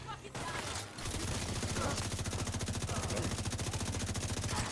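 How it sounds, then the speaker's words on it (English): Enemy shotgunner and other fire in The Division 2, a rapid, steady stream of close gunshots pounding in a fast regular rhythm for several seconds, loud and continuous after a brief quieter opening. "I let that shotgunner shoot me a few times."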